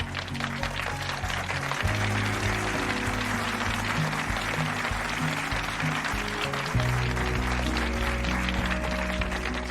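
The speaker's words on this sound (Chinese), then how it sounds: "鼓掌！" An audience bursts into a continuous round of clapping that lasts throughout, with music playing underneath.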